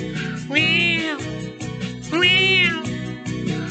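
A voice imitates a cat, meowing twice in long drawn-out cries over a bouncy musical backing.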